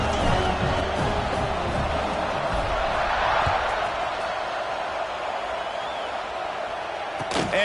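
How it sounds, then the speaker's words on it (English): Stadium crowd in a college football video game roaring in a continuous, loud wash of cheering, with a brief sharp knock near the end. "this crowd is feeling themselves after that last drive"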